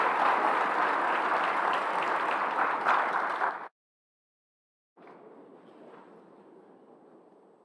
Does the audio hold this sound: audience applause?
yes